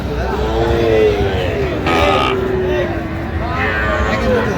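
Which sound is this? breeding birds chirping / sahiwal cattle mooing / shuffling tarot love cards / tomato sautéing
sahiwal cattle mooing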